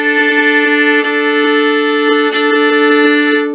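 Two sustained bowed violin notes played together as a slightly detuned fifth, producing a steady wavering beat as they hold loud and close.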